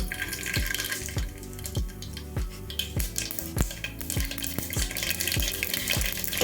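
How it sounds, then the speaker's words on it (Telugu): Mustard and cumin seeds dropped into hot cooking oil for a beans curry, giving a steady close sizzle with a series of sharp popping crackles spaced roughly every half second. "ఆయిల్ అయితే హీట్ అయింది. ఆవాలు జీలకర్ర వేసుకోవాలండి."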